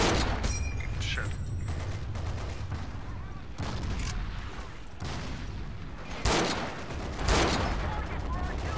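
Gunfire and explosions from a World War II battle in the multiplayer shooter Forgotten Hope 2, with dense overlapping shots and several sharper loud bursts over a constant rumbling battlefield din.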